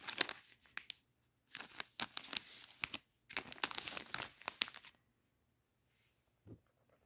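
Crinkling of a small plastic treat bag holding candy, close and fairly quiet, coming in several handling bursts separated by short pauses before fading out.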